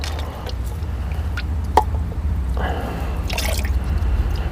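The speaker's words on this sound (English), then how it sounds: "you want to have your catch pan underneath, because it'll drip" Oil dripping from the filter of a Kubota L3010 tractor into a catch pan, a few faint close drips and splashes over a low steady rumble.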